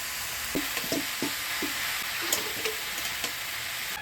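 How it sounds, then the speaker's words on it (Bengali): Chopped bottle gourd with salt, turmeric and green chillies sizzles in a hot pan while a spoon stirs it, steady frying hiss with a few close scraping strokes, no speech. "লাউর সাথে মশলা দিয়ে ভালো করে নাড়াচাড়া করে নিলাম।"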